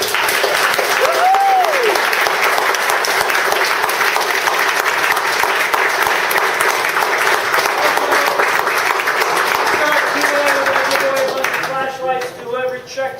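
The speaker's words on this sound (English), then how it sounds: "I want to first give a great big round of applause." A conference audience gives a long round of applause after a technical talk, dense clapping sustained for about ten seconds before fading as a voice begins speaking near the end.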